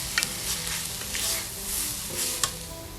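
Celery sizzles in a pan with onions for a Portuguese soup, a steady frying hiss broken by a few sharp stirring scrapes.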